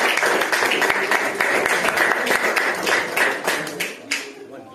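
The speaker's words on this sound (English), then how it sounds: "Give him a big round of applause." An audience at a fight weigh-in for a Siam Warriors show in Cork claps in a loud, continuous round of applause with individual claps audible, while a voice talks over it and the clapping thins at the end.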